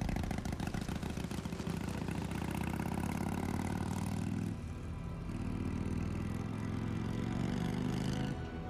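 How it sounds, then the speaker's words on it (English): A motorcycle engine in Hitman 3's Berlin level idles with a steady, continuous mid-pitched rumble that holds throughout, briefly dropping in tone before settling back to a constant drone. "And then take the motorcycle to complete the challenge."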